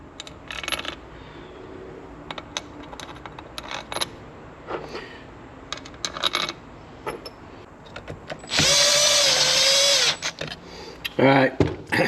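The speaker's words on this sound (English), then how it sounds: "Now I'm going to throw some screws in here." A power driver runs screws into a small two-stroke dirt bike engine, with scattered metallic clinks and handling knocks, then a loud whirring drive burst lasting over a second, followed by shorter buzzing pulses nearby.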